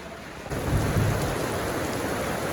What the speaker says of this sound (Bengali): অনেকদিন পর আজকে বৃষ্টির মুখ দেখলাম, তা আবার রাতের বেলা